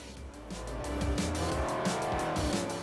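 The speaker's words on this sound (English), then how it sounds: "big slide from the MR2" A Toyota MR2 slides through a corner in a racing video game, tires squealing loudly and continuously over the steady engine drone for about three seconds.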